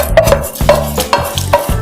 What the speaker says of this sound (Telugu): ఇప్పుడు తాలింపు ఇందులో వేసుకుందాం